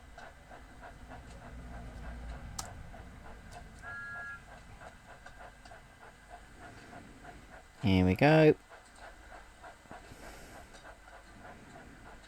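The steam locomotive Thomas draws into Bishop's Lydiard station with a low rumbling chuff, then gives a sharp, loud whistle partway through. Someone speaks briefly over the train.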